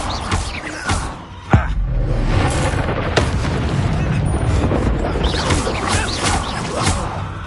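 Expulso explosion spell blasting in Hogwarts Legacy, a loud booming burst over a dense, continuous roar of combat effects, with sharp cracks and whooshes scattered throughout.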